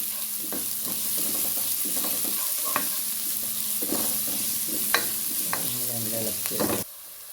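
Sliced onions with ginger and garlic sizzle in a pan for a macaroni lunch dish, a steady close hiss with repeated scrapes and knocks of a stirring spoon, cutting off near the end.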